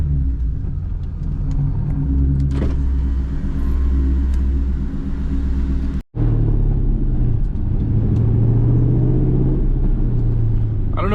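A straight-piped 2003 Ford Mustang GT V8 rumbles loudly and steadily while driving, with deep low-end drone and a brief cut in the middle before the heavy exhaust note returns.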